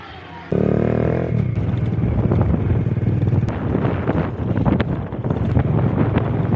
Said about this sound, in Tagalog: Dahil sa hangin, malakas ang hangin.